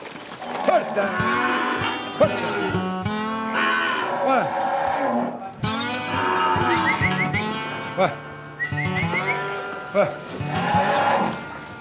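Cattle on a farm in Costa Rica mooing, several long, loud, drawn-out calls overlapping from nearby animals, one after another with brief gaps, and no human voices.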